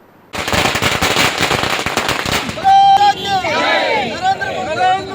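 Firecrackers burst in rapid, crackling volleys at a street celebration by NDA leaders at Sidlaghatta circle in Chikkaballapur. The popping gives way to whistling tones and a crowd's voices.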